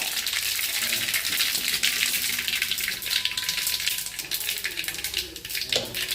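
Cumin seeds sizzle in well-heated oil in a pan while tempering chickpeas: a dense, steady, close hiss of crackling fat that runs throughout, with a few faint clinks.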